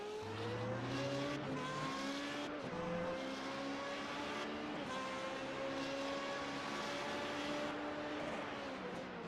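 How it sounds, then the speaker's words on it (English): A Formula 3.5 single-seater race car at the Zolder circuit in Belgium screams past, its engine note rising and falling through repeated gear changes and braking, loud and sustained with no voices over it. "He's got 2 laps left remaining here at Belgium to bring this car home, but you know Samborski, he will be pushing"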